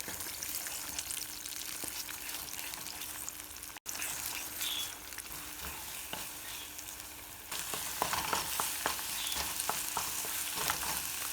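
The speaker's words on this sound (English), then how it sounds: "once it starts spluttering like so, we can start scrambling it" Eggs sizzle and splutter in an oiled pan while being stirred and scrambled, a steady close frying hiss with scraping stir sounds that grows louder and crackles more toward the end.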